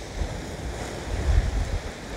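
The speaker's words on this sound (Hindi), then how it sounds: "समुद्री लहरें यहाँ पर हैं" Sea waves break steadily on a beach at Karachi's China Port, a soft continuous wash of surf with some wind rumble and no talk.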